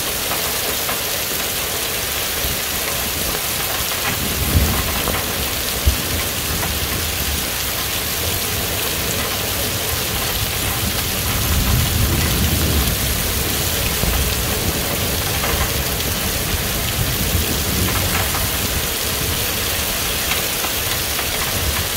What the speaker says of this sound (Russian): покажу, какой у нас ливень.